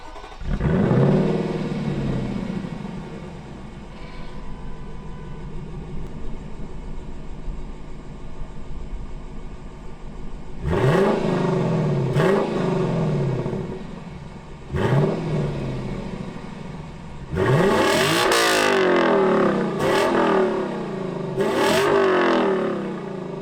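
A 2021 Lexus LC 500 Convertible's naturally aspirated 5-liter V8 idles, then snaps through several sharp revs in separate bursts, each blip rising to a loud bark and falling back to a burbling idle.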